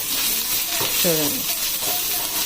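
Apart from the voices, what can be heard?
spices frying in a pan for eggplant curry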